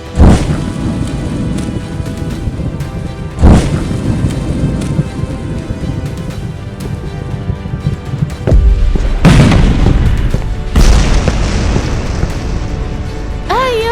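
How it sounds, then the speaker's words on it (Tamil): Explosions blast outside like fireworks in an audio drama: several heavy, deep booms strike at irregular intervals over a continuous loud rumble, with a dense stretch of blasts toward the end. "சார் என்ன இவங்க வெளியே தீபாவளி கொண்டாடுற மாதிரி வெடிச்சுக்கிட்டு இருக்காங்க இது ஃபயர் ஒர்க்ஸ் லாலியா"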